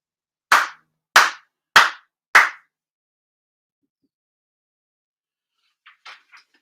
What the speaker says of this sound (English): 4 sincere claps.